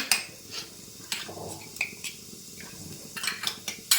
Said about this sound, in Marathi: हे मिश्रण चांगल्या प्रकारे हलवून घ्यायचं आहे